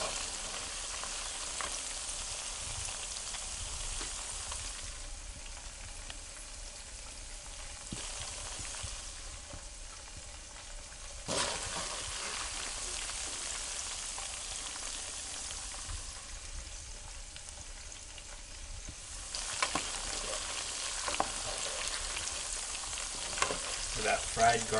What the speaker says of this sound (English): Adding that garlic and the pepper in the fried oil, cooking it up really quick.